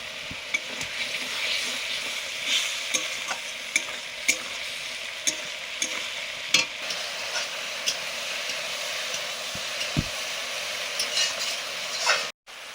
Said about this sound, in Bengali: মশলা জলটা দিয়ে মশলা কষে নেব